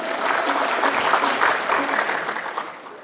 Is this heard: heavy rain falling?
no